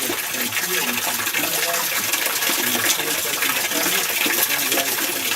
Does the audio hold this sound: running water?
yes